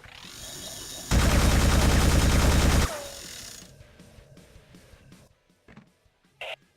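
A spinning-barrel gun in the PS2 game Tribes Aerial Assault fires a loud, dense, rapid burst of roughly two seconds, then fades into a lower mechanical whir with scattered small clicks and a short final blip.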